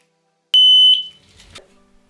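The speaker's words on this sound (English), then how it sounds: "He did at that time put two smoke alarms in" A hallway smoke alarm gives one loud, piercing electronic beep that rings and decays, followed by quieter clicks and faint room noise.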